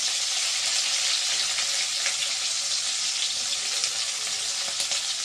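Green chilies, garlic and onion fry in a pan with a steady, loud, close sizzle that holds evenly throughout, with no voices.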